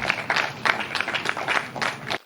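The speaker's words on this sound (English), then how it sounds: "So I guess we should give a round of applause" A concert audience gives a round of applause, a moderate, steady patter of many hands clapping together that carries on for a couple of seconds before stopping abruptly.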